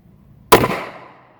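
A single sharp gunshot from a Taurus 709 Slim 9mm pistol, loud and close, with a sudden crack followed by a short decaying echo and no voices.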